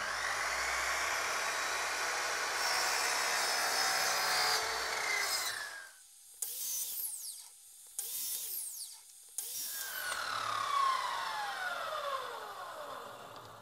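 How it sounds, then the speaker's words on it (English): A mitre saw set at 45 degrees cuts mitred corners in wood for a tray, its motor whining loudly through each cut, then spinning down, followed by three short bursts as the blade restarts, and a final longer cut. "I've got my mitre saw here set at 45 degrees."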